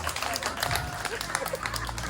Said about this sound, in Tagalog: basta pumalakpak kayo na malakas bayad na kami, palakpakan naman